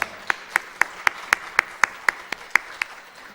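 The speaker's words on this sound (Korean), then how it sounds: "우리 다시 한번 크게 박수로 축복합니다." A church congregation at a worship service claps in a steady unison rhythm, about a dozen sharp, evenly spaced claps ringing through the hall with no talking.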